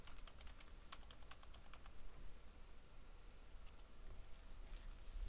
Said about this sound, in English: or use the up and down arrows on the keyboard